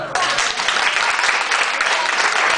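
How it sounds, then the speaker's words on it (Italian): Crowd applause for the bride and groom at a wedding reception at Villa Fiorita, a dense, steady burst of many hands clapping, close and loud, lasting a couple of seconds. "Allora, il primo applauso è per gli sposi."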